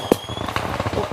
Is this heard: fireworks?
yes